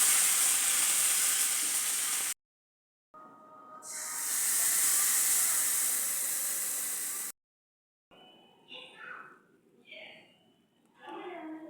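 Tomato chutney bubbling in a pan gives a steady, loud hiss and sizzle that breaks off twice. A quieter stretch with a voice talking follows near the end.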